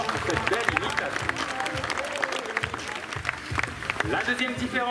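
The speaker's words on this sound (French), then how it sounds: "on peut l'applaudir très très fort pour cette belle imitation" An audience at a Beauval zoo show applauds, a steady dense patter of many hands clapping close by, with a voice speaking over it.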